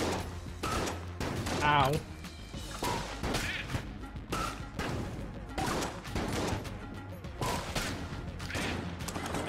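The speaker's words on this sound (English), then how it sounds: "I have the feeling my Tommy gun is better." Rapid Tommy gun fire in the dungeon-crawler game Enter the Gungeon, dense continuous bursts with crashing impacts, while a player talks briefly over the shooting.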